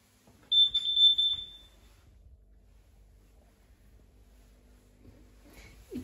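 A household carbon monoxide detector by a boiler cupboard gives a single sharp, high electronic beep lasting about a second, followed by near silence with faint room noise.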